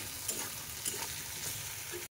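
Vegetable curry sautéing in a pan gives a steady, close frying sizzle with faint stirring scrapes throughout, ending in a brief cut to silence.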